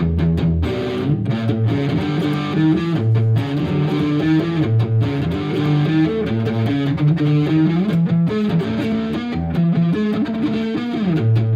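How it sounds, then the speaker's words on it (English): An electric guitar with single-coil pickups plays a distorted, effected riff with a springy tone, notes and chords moving steadily at a constant loud level with no voices. "they have that springy kind of single coil"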